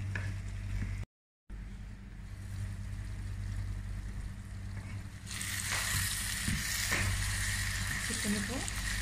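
Chicken roast gravy is stirred in a pan, giving a low simmering hiss under a steady hum. The frying sound grows brighter and louder in the second half, with a few soft scrapes.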